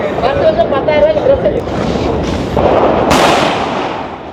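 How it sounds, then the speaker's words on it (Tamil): Firecrackers bursting during celebrations in Chennai, sharp cracks and crackling pops layered under someone talking nearby, with a sudden louder burst toward the end. "வடி சத்தத்தை கேட்டிங்களா? வடி பயங்கர சத்தம்."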